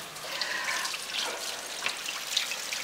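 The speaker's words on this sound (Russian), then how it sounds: "Здесь я ставлю воду" Tap water runs steadily into a cooking pot being filled with about 4.5 litres in a home kitchen, a continuous close hiss with a few small splashes and no talk.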